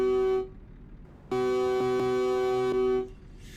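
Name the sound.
truck air horn in video game Euro Truck Simulator 2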